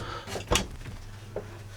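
Cabin drawers on a 31 m Maiora motor yacht, recently refitted, open with a soft close-miked sliding knock, one sharper bump near the middle and a fainter one toward the end over quiet room hum.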